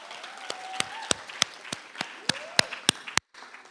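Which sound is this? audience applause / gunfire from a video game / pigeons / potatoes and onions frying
audience applause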